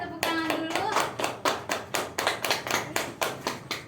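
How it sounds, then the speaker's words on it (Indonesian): A classroom group claps together in a steady burst of applause, about a dozen crisp, evenly spaced hand claps over a few seconds, close and fairly loud, with a brief voice at the start. "Boleh tepuk tangan dulu."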